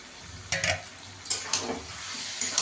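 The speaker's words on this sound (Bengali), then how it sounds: "এবার চিকেনটাকে ভালো করে কষিয়ে নেবো গ্যাসের আঁচটা বাড়িয়ে দিয়ে।" Chicken frying in a spiced masala for chicken lal jhol over high heat, with a continuous close sizzle and a few spoon scrapes as the pieces are turned, and no talking.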